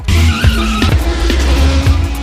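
A taxi speeds and skids in an action film, giving a loud, continuous tire screech over a roaring engine, with no talking.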